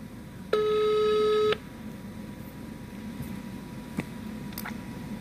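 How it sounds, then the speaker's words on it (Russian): A single steady telephone ringback tone lasting about a second, clear and close, followed by faint background room noise on an unanswered call. "Абонент не отвечает."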